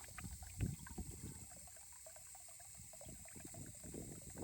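Water trickles and splashes onto garden plants in a drought-tolerant Southern California garden, a faint, uneven patter and dribble with no one talking.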